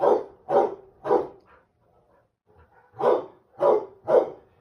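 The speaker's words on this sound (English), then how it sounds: "That is the dog barking at deer." A dog barking at deer, six loud sharp barks in two groups of three with a short quiet gap between, fairly close and alone.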